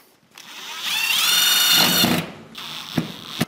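A power screwdriver drives screws while a partition wall is installed, giving a sustained whirring burst of about a second and a half that winds down, followed by two short sharp knocks.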